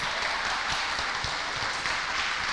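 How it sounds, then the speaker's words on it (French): Women attending a workshop on future employability applaud one another, a dense, steady wash of clapping filling the room for a couple of seconds. "je vais demander à chacune d'entre vous d'applaudir celle qui est à côté d'elle."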